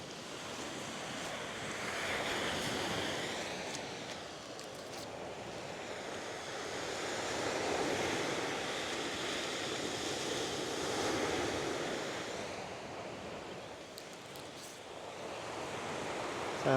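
Ocean waves roll onto a beach below a dune, a broad surging wash that swells and fades in slow cycles, with wind buffeting the microphone throughout.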